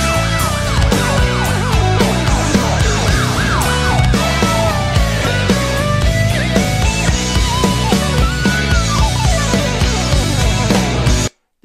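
An electric guitar in a progressive metal song imitates a police siren with rising and falling wails, played loud over dense drums and bass throughout.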